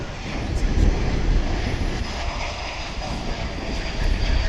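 A Delta airliner on flight 2460 comes in at DFW airport under an overcast sky, its jet engines a steady, moderately loud roar that swells briefly, with faint wind.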